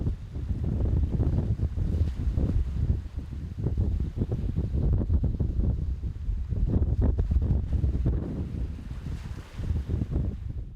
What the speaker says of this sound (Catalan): en un dia on la virulència del vent aixeca onades que deixen aquestes imatges inhabituals